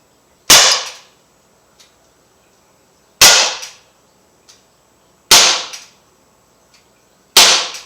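Umarex SA-10 .177 caliber air pistol firing: four sharp, loud cracks spaced a couple of seconds apart, each with a brief ringing tail and a faint click between shots.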